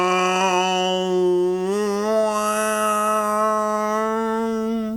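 A human voice imitating the tripod sound from Spielberg's War of the Worlds, a loud sustained blaring horn-like tone held for about five seconds, shifting slightly in pitch partway through.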